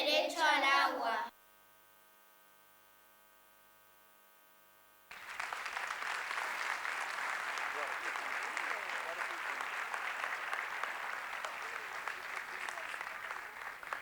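Audience applause at a forum on poverty and inequality affecting children, starting after a brief voice and a stretch of near silence with mains hum, then sustained, even clapping from a crowd to the end.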